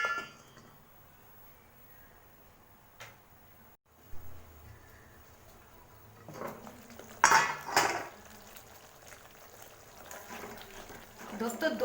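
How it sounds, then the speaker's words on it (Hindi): A lid goes onto a pan of kadai paneer cooking over a low gas flame, with a couple of sharp metallic clanks against quiet kitchen background and faint bubbling afterward. "तो मैं इसको ढक देती हूँ।"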